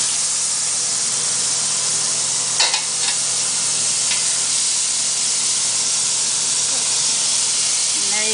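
Scoops of butter melt over low heat in a pan, giving a steady close hiss and sizzle with a couple of brief clinks near the start.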